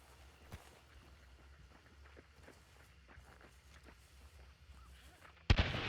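Gunfire in the video game Hunt: Showdown 1896: quiet footsteps and light movement, then one sudden, loud close gunshot with a sharp crack near the end.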